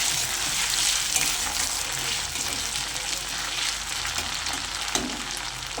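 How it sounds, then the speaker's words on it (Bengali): Loud, continuous sizzling of ginger-garlic paste and chopped onion frying in hot oil, with faint stirring scrapes now and then. "আদা রসুন আর পেঁয়াজটা আর একটু ভালো করে ভাজা ভাজা করে নেবো"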